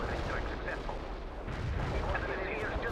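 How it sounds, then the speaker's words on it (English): A continuous artillery barrage in the World in Conflict war game rumbles on, with dense booms and blasts rolling together in a loud, unbroken wall of distant and nearer fire. "so there's the constant stream of artillery"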